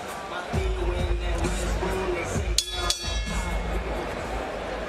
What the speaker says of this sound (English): Nice crowd beginning to fill in here at the MGM Grand Garden Arena